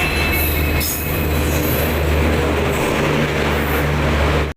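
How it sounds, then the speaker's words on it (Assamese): A passenger train rolls into the platform at Kokrajhar railway station, a loud, steady rumble of wagons with high wheel squeal throughout, close by, with no talking. "এতিয়া চাওক ট্ৰেইনখন আহিল"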